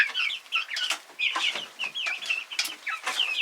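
Young chicks let out into a backyard run for the first time, chirping and clucking in quick, high overlapping peeps at close range, a busy, continuous chatter with no voices.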